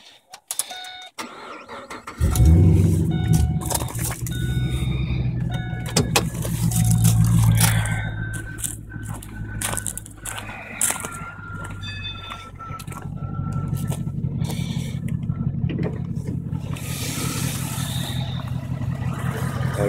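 An HSV Maloo ute with its LS3 6.2-litre V8 cranks and fires at about two seconds, then settles into a deep, loud idle broken by throttle blips and revs, close to the microphone with no talk.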